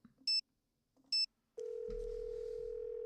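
A phone in the Nancy Drew game Shadow at the Water's Edge gives two short, bright dialing beeps, then a steady dial tone with a low hum beneath it, close and clean.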